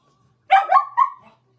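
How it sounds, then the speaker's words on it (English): A dog barks in a short burst of two or three close, loud yelps in a quiet indoor room, with nothing else heard around it. "we listen to my dog bark like crazy"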